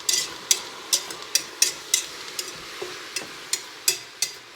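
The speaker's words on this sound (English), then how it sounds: "these are going in right now. And I'm going to stir it around as well." A utensil stirring homemade chili in a cooking pot gives about a dozen crisp scraping clinks against the metal at an irregular, unhurried pace, with a faint bubbling bed beneath and no talk.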